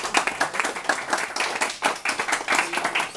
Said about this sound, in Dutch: dan wil ik nu graag een applaus